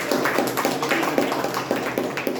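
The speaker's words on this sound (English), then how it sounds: "let us give a big round of applause for ourselves" A meeting audience claps together in a short burst of applause, a dense, steady patter of many hands close by, with no voices over it.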